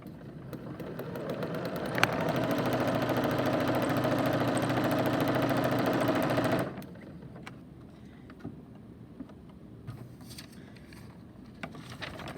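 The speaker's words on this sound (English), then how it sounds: "I'm going to show you what happens if you press on the presser foot really fast" Sewing machine run fast with the presser foot pressed hard, a dense steady mechanical whir lasting about seven seconds before stopping abruptly, followed by quieter faint clicks and handling noise, close up with no talk.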